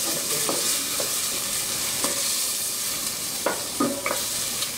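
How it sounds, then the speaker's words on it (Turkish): İncasiye, a Mardin dish with raw chickpeas and shallots, bubbles in its own juices in a pot, a soft continuous sizzle with occasional stirring clinks and scrapes. "Tek kendi suyunda kaynıyor."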